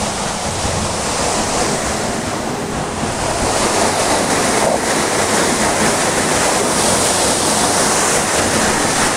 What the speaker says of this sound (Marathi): अशा पद्धतीत हा पंप पाणी मारतोय